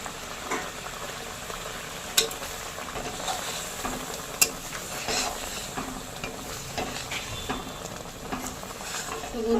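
A spoon stirs ghee and garam masala into a chhana kofta curry frying in a pan, giving a steady soft sizzle with scraping strokes and a couple of sharp clinks against the vessel.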